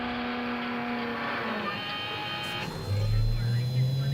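Cyberpunk RED AV flying vehicle departing, heard from outside, with a steady mechanical hum that swells into a loud low roar near the end as it lifts away.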